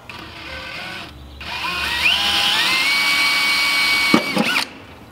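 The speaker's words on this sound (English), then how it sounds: "What I'm gonna do now is drill the self-tappers, fasten this into place" A power drill drives self-tapping screws to fasten a cowl intake on a vehicle firewall. A loud, close whine climbs in pitch and holds steady, breaks off briefly, then ends in a short burst of ratcheting stops.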